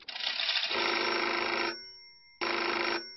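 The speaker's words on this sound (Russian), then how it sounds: "Звонок Меркель Путину." A telephone rings twice in an animated cartoon, loud and close. Each ring is a long electronic trill with a short silent gap between them, and no one speaks.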